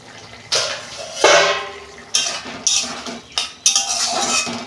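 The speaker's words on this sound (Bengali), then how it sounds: "ঢাকনা আমি খুলছি" Metal pot lid lifted off a pan of chickpea, potato and papaya curry in a home kitchen, giving several close, loud clanks and scrapes of metal on metal.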